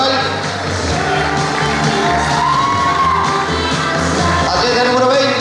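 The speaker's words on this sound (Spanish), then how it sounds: "Fuerte el aplauso para el local." An audience at a bodybuilding contest in Rivera, Uruguay, cheers and claps for a local men's beach model competitor, with loud sustained whoops, shouts and yells layered over a steady roar of applause from start to finish.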